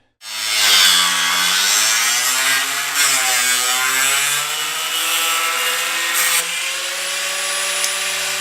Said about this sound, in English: we do have to cut just a little bit out of this